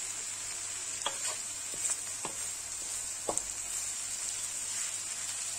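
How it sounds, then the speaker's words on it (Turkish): Meat for saç kavurma sizzles and fries in its own fat with a steady, soft hiss, with a few faint clicks of stirring. "Şöyle kendi yağ ile pişirdik."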